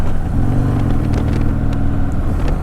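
Harley-Davidson Softail Sport Glide with Stage II tuning pulling in third gear, a steady, loud, close engine drone with a slightly choppy, pulsing throb throughout.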